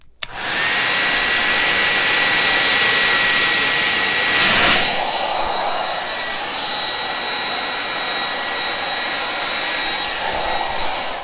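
A loud, steady hair-dryer-like roar of air blown over acrylic paint in a Dutch pour, close and continuous, briefly surging before easing to a slightly softer whoosh that runs until the end, with no talk.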